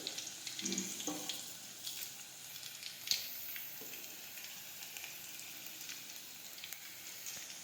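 Crushed garlic and mustard seeds sizzle in hot oil while a Gujarati moong curry is cooked, a soft, steady crackle with faint scattered pops at low volume.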